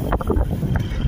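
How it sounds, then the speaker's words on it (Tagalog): Strong wind buffets the microphone during a motorcycle ride near Pinili, Ilocos Sur, a steady, close roaring rush with a few brief bumps and no talk. "Uy, yun lakas ang hangin."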